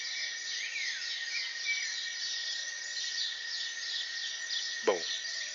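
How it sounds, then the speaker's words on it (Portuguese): Crickets chirp steadily in a dense, continuous high-pitched chorus in Ilhabela, while a faint bird call slips through and one short chirp stands out near the end. "Agora os grilos predominaram."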